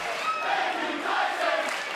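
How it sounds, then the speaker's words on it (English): Arena crowd at a WWE NXT wrestling event roars and cheers in a steady, dense wash of voices with no single speaker standing out. "Listen to this NXT crowd."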